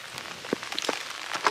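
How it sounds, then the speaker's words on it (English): Rain falls during outdoor coyote trapping, pattering on nearby surfaces as a steady wash with scattered, distinct drop hits, moderately close and with no talking. "So it is pouring down rain, and as promised, the rain is here."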